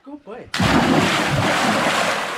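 A person jumps into the water of a village well in the Konkan countryside, hitting with one loud, close splash that churns on as sustained watery roar, just after brief talk.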